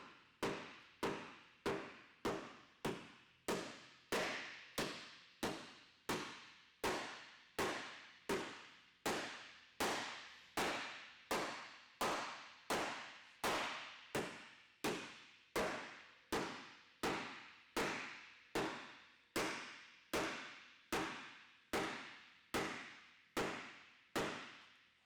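Steady, evenly paced metallic hammer blows on a car fender's sheet metal, roughly one per second, each ringing briefly before the next strike.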